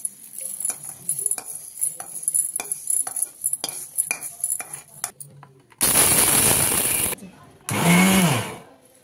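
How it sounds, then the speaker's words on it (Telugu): A mixie grinder whirs in two loud, steady bursts as it grinds roasted dates, with a short pause between them, after a stretch of quieter clinks and stirring sounds. "ఇప్పుడు ఇవేమో మనం మిక్సీ పట్టుకున్నాం"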